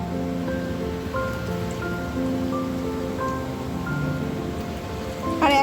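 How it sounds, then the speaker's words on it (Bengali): Potato and sour yogurt snacks frying in hot oil, a constant fine crackle like light rain that runs close and even throughout, with a brief louder clatter at the very end. "এবার একে একে এগুলোকে আমি ভেজে নেব"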